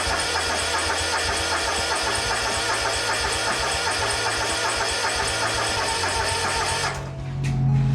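Exmark zero-turn mower engine on full choke cranking and catching, a steady loud mechanical churn that runs for several seconds, then a brief dip and a rougher surge near the end, close by with no voices.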